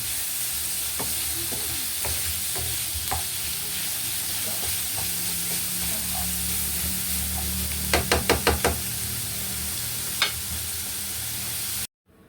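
Chicken and onions fry in a pan with a steady hiss of sizzling oil. A few light knocks come early, then a quick cluster of sharp utensil taps against the pan, and the sound cuts off at the end.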